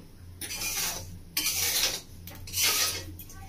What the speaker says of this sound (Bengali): আমি এইভাবে খুন্তি দিয়ে নেড়ে নেড়ে ভালো করে গরম করে নেব